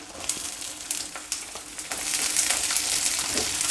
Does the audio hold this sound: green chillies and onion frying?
yes